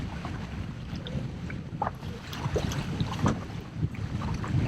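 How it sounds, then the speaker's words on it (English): Water from a passing boat wake slaps irregularly against a fishing boat hull on Candlewood Lake under steady wind rush and engine rumble, with several uneven splashes. "Oh, here comes boat wake."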